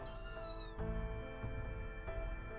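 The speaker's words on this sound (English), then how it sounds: "Was that a cat?" A cat in the video game Fate Grand Order lets out one clear, drawn-out meow up front, then soft background music carries on alone.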